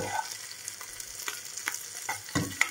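Onions for burgers fry in a pan with a soft, continuous sizzle, broken by several sharp scraping clacks as they are stirred, close up and without speech.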